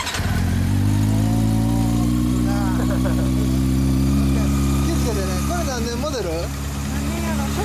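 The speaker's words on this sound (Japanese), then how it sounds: "エンジン音聞かせてくれる？" A 2010 Honda CB400 Super Four Revo motorcycle fitted with an SP Tadao muffler idles steadily and loudly up close, a deep even rumble throughout while people talk over it.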